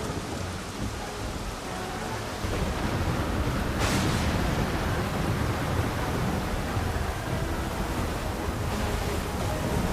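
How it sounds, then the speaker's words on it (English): Stormy ocean waves surge and roar in a Final Fantasy XIV Dawntrail cutscene at sea, a steady, loud, rain-like wash of broadband noise that swells slightly after the opening seconds, with a brief splash-like burst near the middle. "The heaving waves tossed our ship about like a toy, sending sailors tumbling."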